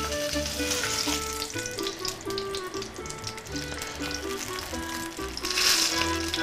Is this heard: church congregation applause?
no